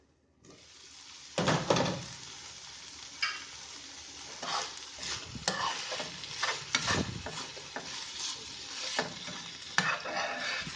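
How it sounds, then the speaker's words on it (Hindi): Marinated chicken cooks covered in a pan over low flame, giving a soft, steady sizzle. Occasional clatters and scrapes of a utensil or lid come through, with no talking. "मैरिनेट चिकन को कुक होते हुए 5 मिनट हो चुके हैं"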